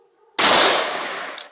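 A single loud, close blast from a .44 Magnum handgun fired at bottles, with a sharp crack and a long ringing decay after a brief quiet lead-in.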